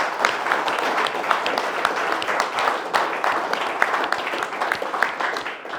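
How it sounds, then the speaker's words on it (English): A meeting audience at a bus preservation society's annual general meeting gives a round of applause, dense steady clapping from a moderate crowd sustained throughout. "a big round of applause"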